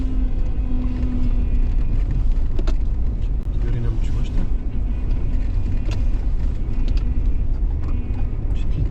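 A car rolls along an unpaved forest road toward a ford, its engine rumbling steadily with rough low-frequency road noise and occasional knocks from the uneven surface throughout, close and loud.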